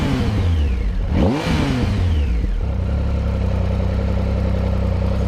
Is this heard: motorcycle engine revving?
yes